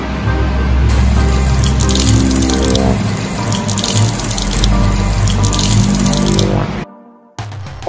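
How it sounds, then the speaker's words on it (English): Water runs steadily from a cafe faucet, a continuous broadband rush lasting about seven seconds before cutting off abruptly, with a brief restart at the very end. "I like their faucet."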